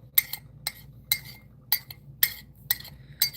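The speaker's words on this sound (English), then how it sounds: "Just pushing the leaves back down into the cup." Tea leaves are pushed down into a cup, making about seven light, bright clinks at a fairly steady pace, close by over a faint low background hum.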